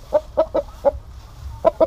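A giant Indian game chicken clucks close by: six short, sharp clucks in an uneven rhythm, loud and clear with no talk.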